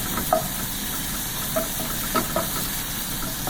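Onions frying with crushed ginger paste and garlic paste for spicy African-style tilapia: a steady soft sizzle with occasional faint stirring taps and pops, close and fairly quiet, no talking.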